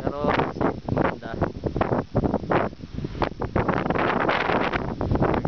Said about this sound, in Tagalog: Galing ang hangin.